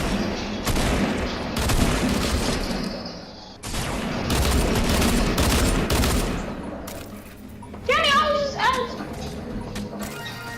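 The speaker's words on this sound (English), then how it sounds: "I don't know where this person's shooting me from." Sustained bursts of automatic gunfire in the Fortnite video game during an Easter egg event, loud and dense, broken by a short pause, with a player's voice briefly talking over the shooting.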